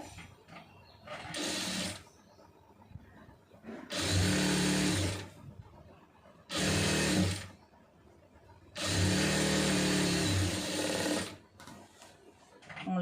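A sewing machine runs stitches along a double-folded fabric hem for a pencil-fit garment in four close bursts, two short and two longer, with quiet gaps between them.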